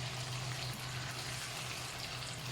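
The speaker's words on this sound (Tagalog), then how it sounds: "Then pwede na natin siyang lagyan ng tubig." Water poured into a pan of sautéed chicken for creamy chicken pastel, a continuous close splashing and pouring rush over a low cooking hum, with no speech.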